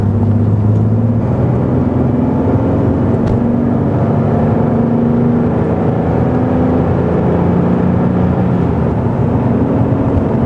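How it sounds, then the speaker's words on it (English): A Porsche 911 of the 964 generation with its rear engine idling and being revved during an oil change, a loud steady rumble throughout with pitch rising and easing as the throttle is blipped, close by, no talk. "See, when I rev it, it goes up."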